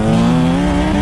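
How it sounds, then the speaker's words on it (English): A supercharged Dodge Viper drives past with a loud, steady engine drone, its strong low harmonics holding evenly for a second without a break. "Supercharged Viper."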